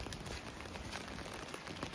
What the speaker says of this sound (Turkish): Sulu kar yağıyor aslında